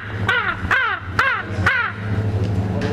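A person imitates a crow, four harsh cawing calls in a steady rhythm, loud and close over a low background hum.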